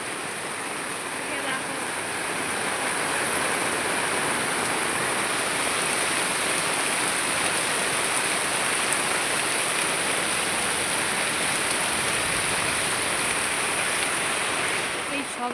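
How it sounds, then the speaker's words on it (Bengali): Heavy rain falls in a constant, broad wash of hiss, steady and moderately loud throughout. "কি পরিমাণ বৃষ্টি হচ্ছে একটু দেখো, বৃষ্টিতে পুরো সাদা হয়ে গেছে, এত বৃষ্টি হচ্ছে।"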